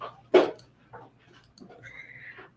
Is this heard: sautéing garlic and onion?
no